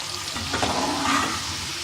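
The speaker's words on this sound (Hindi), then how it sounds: "दाल भी हमारी फ्राई हो गई है।" Dal lentils sizzle steadily in hot oil while being fried for homemade nimko, a continuous close crackling hiss that holds even throughout with no voices.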